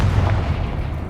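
A Confringo spell blast from the Hogwarts Legacy video game, a loud, booming burst with a dull rumbling body that fills the short moment.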